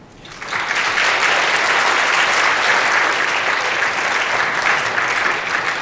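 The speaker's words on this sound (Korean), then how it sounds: "지금까지 강연을 해주신 권영걸 대표님께 다시 한번 큰 박수 부탁드리겠습니다" Sustained audience applause fills the room at the close of a design lecture, rising quickly after a soft start and holding a dense, steady clatter of many hands throughout, with no voices.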